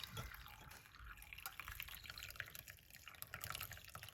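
Quiet liquid trickling and dripping as tea is poured into a cup, a thin stream pouring steadily for a few seconds with faint splashes.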